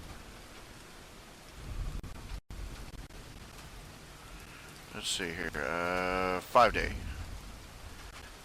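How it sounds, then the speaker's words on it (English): Real rain falls steadily on a roof as a soft, constant hiss, heard under a person talking while a radio plays further sounds in the room. "I've got fake rain playing on the radio and real rain falling on the roof."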